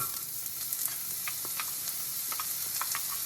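Onions dropped into hot sesame oil in a pan for stir-fried rice, a close, steady sizzle with scattered light clicks of a spatula moving them around, no speech.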